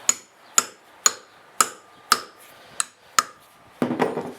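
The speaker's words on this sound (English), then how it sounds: "This is a 13/16 deep well, so I want to hit it a couple times here." Seven sharp metallic strikes hammering a 13/16 deep well socket to break loose a bolt on a 1995-up Dodge Neon strut, spaced about half a second apart, close and ringing, followed by a brief rustle.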